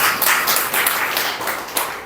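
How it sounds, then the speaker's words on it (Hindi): A church congregation claps to thank the Lord, loud clustered bursts of handclaps in a quick uneven rhythm, close and full, lasting about two seconds with no speech. "ताली बजा के प्रभु का धन्यवाद"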